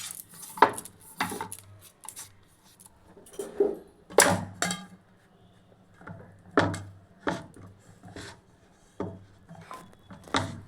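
Butter being spread and rubbed over a pizza base with a utensil, producing intermittent scraping and clinking strokes in short bursts, close and moderately loud with quiet gaps between.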